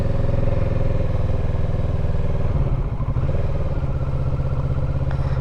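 A Kawasaki Z650 motorcycle ridden slowly, a steady close engine rumble with a low, chugging idle-like pulse and brief wind buffeting, no talking.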